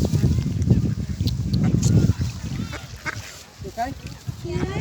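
Ducks quack and honk at ponds on Maldon Promenade, with swans nearby, in short calls toward the end. People talk over the first half.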